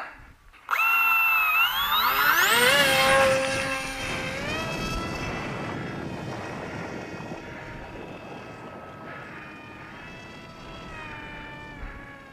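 Electric motor of a TopRC T1400 RC motor glider, somewhat underpowered, whines up sharply in pitch at launch, then settles into a steadier buzzing drone that fades slightly as the plane climbs away.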